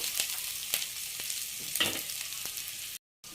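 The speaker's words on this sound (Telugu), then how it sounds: "అప్పుడు సిమ్లో పెట్టి వేయించుకుందాం." Paneer pieces frying in a pan on a low flame: a soft, steady sizzle with occasional light pops and stirring taps, quiet and close, cutting off abruptly near the end.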